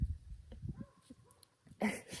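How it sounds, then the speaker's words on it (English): A dog on a farm with many dogs makes faint, close whimpers and soft yips, followed by a brief louder rustle or bark at the end. "Here's a dog down there."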